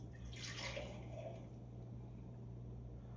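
Bourbon whiskey poured from a bottle into mason jars, enough for about ten jars, makes a steady close splash and trickle of liquid over a constant low electrical hum, with no talking.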